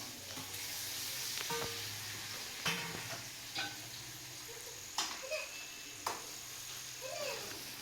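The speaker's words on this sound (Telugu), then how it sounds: "నూనెలో అయితే బాగా ఉడికేయాలి చికెన్" Chicken pieces fry in hot oil with a soft, steady sizzle, broken by occasional clinks and scrapes from stirring, faint and close.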